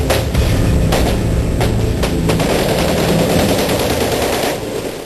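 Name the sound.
gunfire during police operation in Lyari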